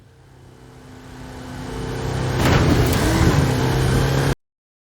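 A Ford Mustang's engine in Forza Horizon 5 builds steadily in volume, revving harder midway and holding a loud, sustained roar before cutting off abruptly.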